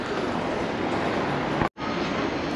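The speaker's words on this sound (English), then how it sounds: "So this is a service for Brighton, and then there is the next train for Raynham" A train at Blackfriars station on the Thames, a loud continuous rumble and rush of rolling stock with a brief dropout near the middle, then the steady roar resumes.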